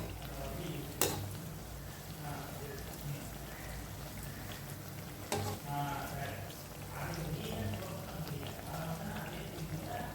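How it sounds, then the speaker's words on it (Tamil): Bread slices deep-fry in oil to golden brown, giving a steady soft bubbling sizzle with two sharp knocks of a utensil against the pan, fairly quiet and without speech. "நல்லா பொன்னிறமாக பொரித்து எடுத்துக்கலாங்க."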